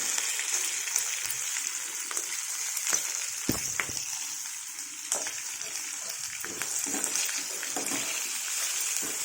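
Mango pieces and green chillies frying in hot oil for a mango-ginger pickle, a steady close sizzle and crackle with occasional stirring scrapes and pops throughout, no talking.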